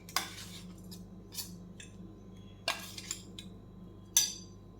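Ground chammanti chutney with pappadam scraped onto a plate with metal utensils: a few sharp clinks and scrapes spaced apart, close and fairly quiet, with no talk.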